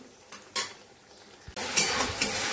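Masala paste with turmeric and ground cumin is fried and stirred in a home kitchen pan. A spoon scrapes and clinks in short bursts over a low sizzle, which grows brighter and louder halfway through.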